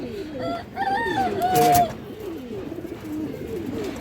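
Pigeons coo in a loft with a red Muslodom male pigeon among them, soft repeated coos with a brief louder burst near the middle, other birds and faint voices around them.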